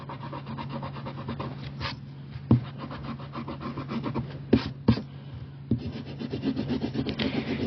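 A rubber eraser scrubs back over a pencil sketch of a city on paper, making close, dry rubbing strokes in uneven bursts with a few sharper scuffs, with no voices.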